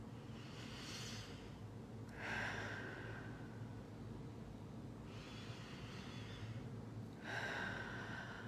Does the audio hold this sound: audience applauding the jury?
no